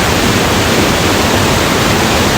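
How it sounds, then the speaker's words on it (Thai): Waterfall plunging down a cliff in a jungle setting, a loud, continuous broadband roar of rushing water, steady and close with no voices. "ข้างๆนี่เป็นน้ำตกหน้าผาลงไปนะ"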